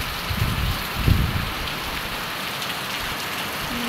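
Heavy typhoon rain pours steadily with low gusty rumbles of wind early on, a continuous close roar of falling water.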